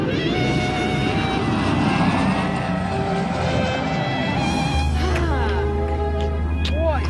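A propeller aircraft engine drones continuously, with a deeper steady hum joining partway through and a few high whistling tones near the end.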